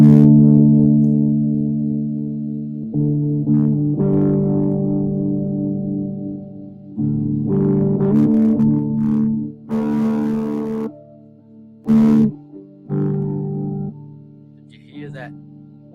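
An electric guitar plays through a distortion effect pedal with its level turned up. Sustained, buzzy, harmonically rich notes and chords ring out in separate phrases with short gaps between them.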